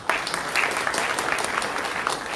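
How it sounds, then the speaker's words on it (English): Audience applauds after a presentation and question session, steady dense clapping from a room of listeners, even and sustained throughout with no speech over it. "Let us give him a round of applause."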